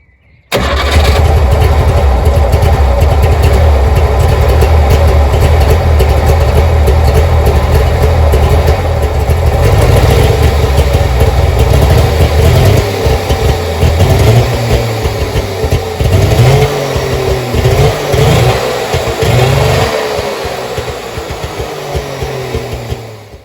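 A Wartburg Knight car engine cranks and fires, then runs loudly and steadily close by for about twenty seconds, its rough idle wavering slightly before easing off near the end.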